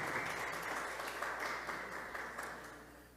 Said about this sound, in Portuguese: venha à frente com uma salva de palmas